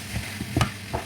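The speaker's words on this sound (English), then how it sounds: "So this is how you'll be mixing it until that dryness come aside." A spoon stirring okra soup in a pot, with scraping and soft sizzling from the dry ingredients, close and moderately loud, in a few uneven strokes with no talk.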